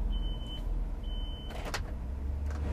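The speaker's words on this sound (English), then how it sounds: "You've got that rear backup beeper to warn people around you that you're moving backwards." A 2009 Chevy Express cargo van reverses, its rear backup beeper giving two clear high-pitched beeps, then a couple of brief clicks and scrapes over low vehicle rumble.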